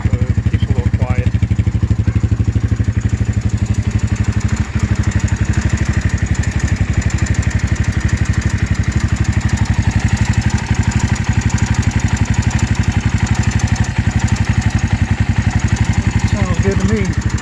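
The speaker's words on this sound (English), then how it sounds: "And for you Mega Dan, it is idling at 1500 RPMs." A Venom X22R 250 dirt bike engine with a baffle in the exhaust idles steadily and loudly up close at 1500 RPM, a continuous even putter with no pauses.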